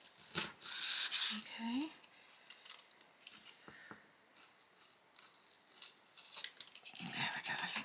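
Material for doll shoes being cut with scissors, close-up snips, rubbing and crinkling in irregular bursts, with a brief spoken word near the end.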